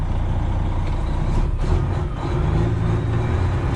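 A Freightliner Classic XL semi truck pulls away, its diesel engine rumbling loud and steady close by, with a brief hiss like an air brake release partway through.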